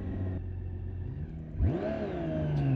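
A BMW K1600GT six-cylinder motorcycle engine lugs low and nearly stalls, a deep uneven idle drone that dips and then picks up into a rising rev, close and steady.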